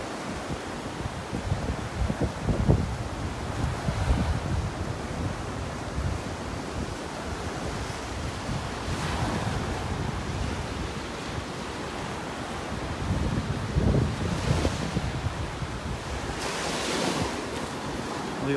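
Ocean waves break on a beach in North Naples, Florida, in a steady roar of surf with strong wind buffeting the microphone. The surge swells louder in a few places, and no one speaks.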